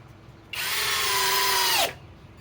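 A Flex FX1231 compact hammer drill on a fully charged 3.5 stacked lithium battery, set to speed 2, drives a 4-inch timber lock screw into wood: one loud, close whirring burst of about a second and a half that drops in pitch as the screw seats, then stops.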